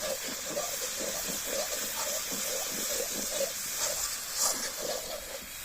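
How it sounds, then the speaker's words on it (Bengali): Broth is poured into fried spice paste in a pan for a pointed gourd dolma, giving a steady, continuous gushing, hissing wash of liquid, close and fairly loud with no talking. "এখন আমি এর মধ্যে ঝোল দিয়ে দেবো।"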